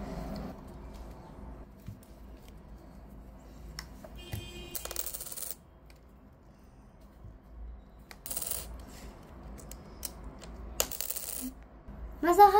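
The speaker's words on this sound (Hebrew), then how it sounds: "זה נשמע כמו מטבעות זהב" Gold coins jingle and drop in scattered metallic bursts, a few short clinks and rattling spills separated by quiet stretches. They sound fairly faint over a low background.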